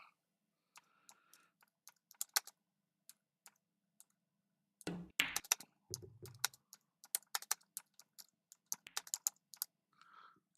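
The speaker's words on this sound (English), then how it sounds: "Get this bloody keyboard to work." Bursts of typing on a computer keyboard with an unreliable spacebar, quiet close clicks in uneven clusters separated by pauses, plus a few heavier knocks midway.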